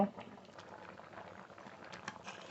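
Potatoes boiling in a pot of water give a steady, close bubbling burble that runs unbroken from start to finish.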